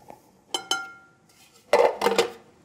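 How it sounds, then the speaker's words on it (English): Dry bread ingredients going into a bowl, heard as a couple of ringing clinks and then a denser clatter and rattle of utensil against bowl, close and fairly loud, with no talking. "you can just put all the dry ingredients right in the bowl"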